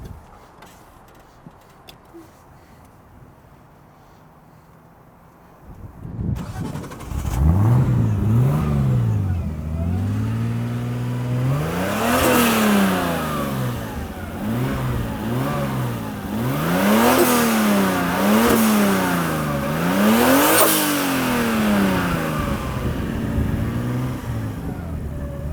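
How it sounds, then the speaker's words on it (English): A Datsun 280Z with a swapped RB25DET NEO turbo inline-six starts after a quiet pause, then settles into a loud, rough idle and is blipped through repeated rising and falling revs; close by, with no talk over it. "Can you turn it on so we can hear it?"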